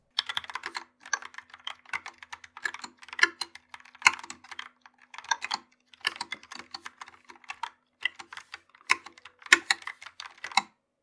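Typing on a Logitech PopKeys mechanical keyboard with brown switches: close, steady bursts of clicky keystrokes in uneven runs with short pauses between them, no talking.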